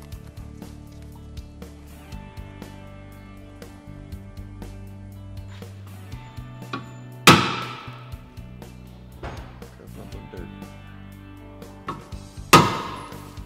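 Two sharp metallic strikes of a hammer on a center punch, marking holes on a Ford 6.7L Power Stroke cross member, several seconds apart, ring out over a low steady hum, with a few softer taps and clicks between them.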